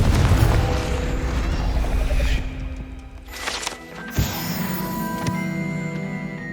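A Confringo fire spell cast in Hogwarts Legacy bursts with a heavy booming blast, rumbling loudly at first, then thinning into a sharp crack and a lingering magical shimmer with no one talking.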